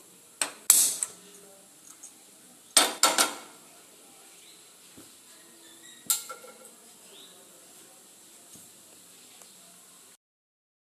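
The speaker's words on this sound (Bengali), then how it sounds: "গ্যাসটা অন করে একটা ফ্রাই প্যান বসিয়ে দেবো।" A metal frying pan clanks down onto a gas stove, with several sharp knocks and rattles in quick bursts separated by quiet gaps.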